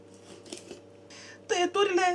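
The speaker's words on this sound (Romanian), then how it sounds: "Acum, facem o serie de tăieturi." A knife scores a series of cuts into a cleaned crucian carp, giving soft scraping and crunching cuts in short bursts close up, followed by a person starting to talk.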